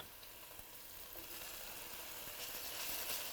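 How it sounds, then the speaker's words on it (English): Capers sizzling in hot oil with anchovy for a spaghetti with tuna sauce, a steady close frying hiss that grows slightly brighter and louder toward the end. "Now we put the caper"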